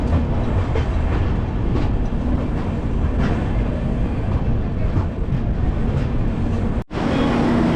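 The Kolkata–Sairang Express rumbles on steadily from inside a carriage, a dense, loud roar with faint rhythmic rattling and a sudden brief dropout near the end.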